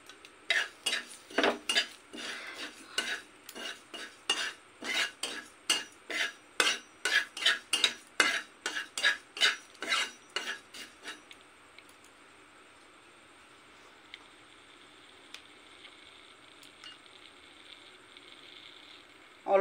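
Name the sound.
dry roasting cumin seeds and bay leaf in a dry wok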